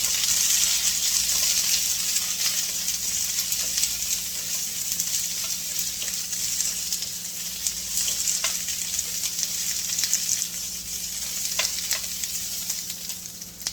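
Green vegetables dusted with salt fry in a hot pan, giving a dense, steady hiss and sizzle that holds close and loud across the whole stretch, broken by a few light stirring clicks, with no voices.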